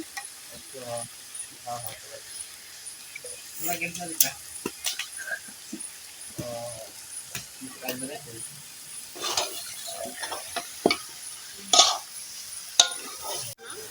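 Tomatoes added to a pan and stirred while cooking at a family picnic, with intermittent scraping and stirring clatters and a faint sizzle, under speech at times.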